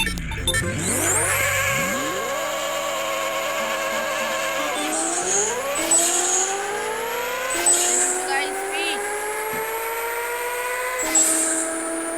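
Revving engine of a car in the video game Pixel Car Racer, loud and continuous, with rising pitch sweeps at each gear change and shrill whining over the top throughout.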